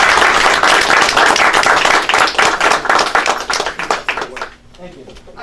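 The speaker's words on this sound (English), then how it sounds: "I think we all should just give them a round of applause." Loud, dense applause from a crowd at a freeholder meeting, holding steady before thinning to a few last claps, with voices in the background.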